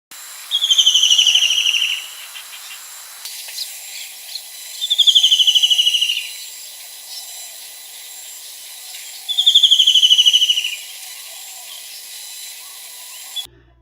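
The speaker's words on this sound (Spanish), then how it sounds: "Observamos gran variedad de aves, como la pueden ver." Birds call in Chitwan National Park, Nepal, giving three evenly spaced bright trilling phrases, each lasting about a second, clear and fairly close over a steady background hiss.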